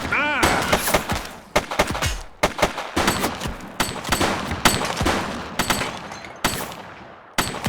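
Dense, sharp gunshots ring out in The Precinct, rapid irregular volleys of loud cracks and bursts packed closely together with brief voices mixed in.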